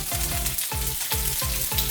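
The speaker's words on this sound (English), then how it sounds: "you want to stir fry your onions separately." Onions stir-frying in a hot pan for a beef shaking dish, a steady loud sizzle with regular scraping stirs roughly every half second, no voices.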